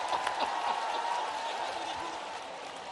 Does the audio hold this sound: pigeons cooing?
no